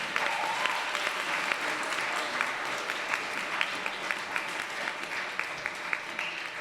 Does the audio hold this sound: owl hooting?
no